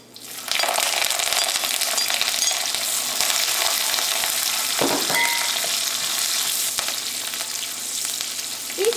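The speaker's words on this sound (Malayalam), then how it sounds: "ഈ ചുവന്നുള്ളി വെളിച്ചെണ്ണയിൽ കിടന്ന് പതുക്കെ ഒന്ന് മുരിഞ്ഞ് കഴിയുമ്പോൾ ഇതിലേക്ക് നമുക്ക് തേങ്ങ ചേർക്കാം." Shallots and curry leaves frying in coconut oil for erissery, a strong, continuous sizzle with a crackle throughout and a brief stirring scrape near the middle, with no talking.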